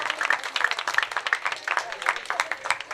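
An audience at a Shrimad Bhagwat Mahotsav religious gathering claps for an honoured guest on stage, a fairly close, uneven patter of hands rising and falling, with a voice speaking over the applause.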